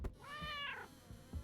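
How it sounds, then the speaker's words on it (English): A cat meows once in a horror video game, a clear, rising and falling cry at moderate distance, surrounded by faint thumps and game ambience. "I heard a cat."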